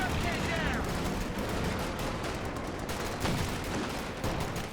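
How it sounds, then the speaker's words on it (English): Sustained MG42 machine gun fire in the World War II strategy game Company of Heroes 2, a dense continuous battle din of rapid bursts with other gunfire and explosions, loud throughout. "those shock troops do get fully pinned there by the MG42"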